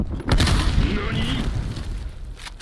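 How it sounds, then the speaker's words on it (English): A loud, close grenade blast booms and rumbles for a couple of seconds in the Call of Duty Cold War video game before trailing off. "Grenade out."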